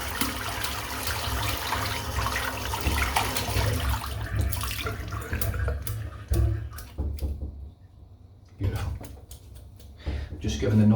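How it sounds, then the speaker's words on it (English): A shaving brush rinsed under a running tap gives a continuous splashing water stream, close by, with brief pauses and a few knocks near the sink. "Just giving us a real good rinse out here."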